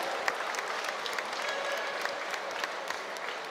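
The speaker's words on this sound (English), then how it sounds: "a big round of applause, please, for both of these men after 3 hard-fought rounds" An arena crowd at a UFC Fight Pass bout applauds both fighters after three hard-fought rounds, a faint, distant, even wash of clapping.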